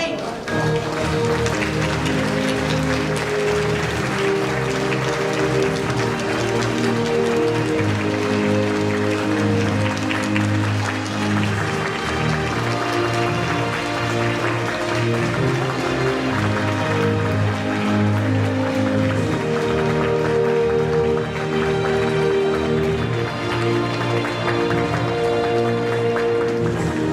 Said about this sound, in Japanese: どうぞ皆様盛大な拍手でお迎えください。